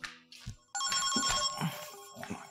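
Telephone ringing indoors, a bright trilling electronic ring that starts abruptly and carries on steadily at close range, with faint background movement sounds before it.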